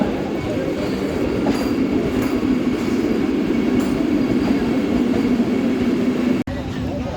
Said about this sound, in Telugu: తిరుపతి సికింద్రాబాద్ వందే భారత్ ఎక్స్ప్రెస్.